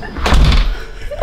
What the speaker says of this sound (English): Don't shut the door on me.